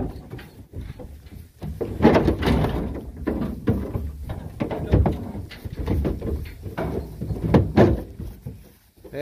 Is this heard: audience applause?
no